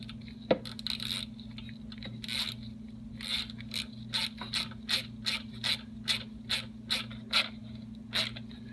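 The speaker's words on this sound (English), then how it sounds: "I'm going to get my ratchet and we'll tighten those up." Ratchet tightening 10mm bolts into aluminum on a 1984 Yamaha G1 golf cart, about a dozen crisp, close clicking strokes in a steady rhythm over a low mechanical hum, with a clank at the start.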